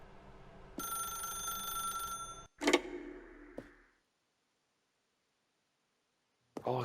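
An old-style telephone bell in The Stanley Parable rings steadily for a couple of seconds, then cuts off abruptly, followed by a few clunks and handling noises before near silence; brief sound returns at the end.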